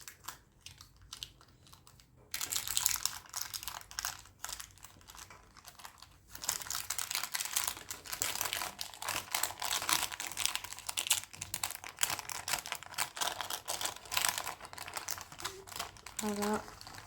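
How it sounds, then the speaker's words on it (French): Baking paper being peeled away from a still-warm cake, giving a steady run of dry crinkling and tearing rustles. The sound grows denser after a quiet opening, with some speech mixed in at points. "Je vais décoller le papier autour. Et je vais la décoller aussi de mon papier cuisson."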